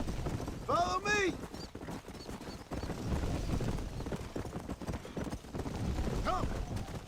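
Horse hooves clip-clop at a gallop in the Western video game Red Dead Redemption, a quick rhythmic beat under the game's ambience, with short whinny-like calls and voices of characters talking over it.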